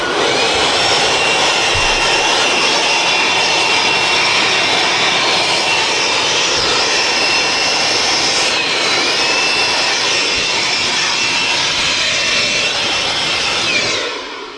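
A loud, steady high-pitched air blower roar, cleaning out a Mitsubishi air conditioner, runs nearly the whole time, a constant airy whine with no talking, cutting off abruptly at the end.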